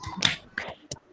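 A few sharp, close hand claps from a 'tepuk semangat' clap routine, unevenly spaced, with brief quiet gaps between them.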